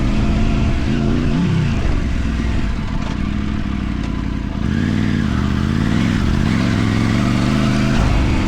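A Triumph Tiger 900 motorcycle rides through sand on a trail, its engine loud and close with a steady drone that rises and falls in pitch as the throttle shifts, along with some clatter and no talking.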